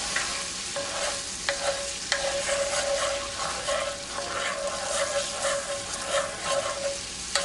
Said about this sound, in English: Add in the rum. Give that a stir around quick.